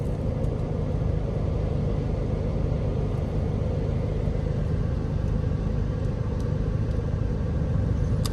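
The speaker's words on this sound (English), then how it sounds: "I'm going to show you this storm." A strong storm wind roars in a continuous, loud low rumble, with tree branches whipping nearby and no talk.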